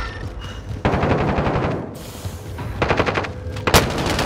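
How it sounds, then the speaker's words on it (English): Bursts of automatic gunfire from a first-person video game shooter, loud and close, arriving in rapid rattling volleys with short gaps between them and a sharp single blast near the end. "I was getting shot by two people"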